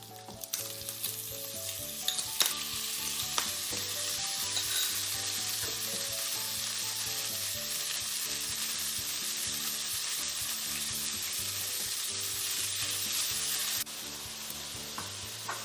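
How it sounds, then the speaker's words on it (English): Meat frying with crispy bacon in a pan for tacos, a steady close sizzle with occasional stirring scrapes and pops, running continuously without talk. "when we have a crispy bacon, we will add the second ingredient, and that will be the meat."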